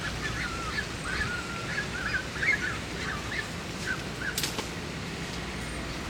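A Basenji puppy, the barkless dog breed, gives a string of short, high warbling yodel calls in an irregular rhythm, close by and moderately loud over a steady background hiss.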